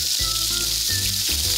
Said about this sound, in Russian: Это жарится и сверчит.